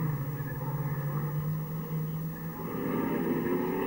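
Two 1968 sports racing cars, one with a Chevrolet V8 and the other with a Repco engine, roar across a causeway in a steady, loud engine drone whose pitch climbs toward the end as they come nearer.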